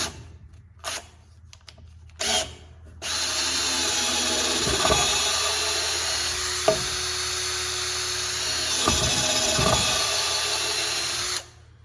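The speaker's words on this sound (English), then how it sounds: "Pilot, drill my hole." A power drill bores a pilot hole into wood for a lag bolt, a steady whine running about nine seconds with rising bites as the bit cuts near a knot, after a few short trigger bursts.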